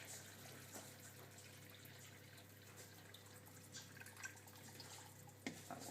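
Water trickles and drips into plaster in a jug, a soft, uneven pour with scattered drips over a low hum, close and fairly quiet.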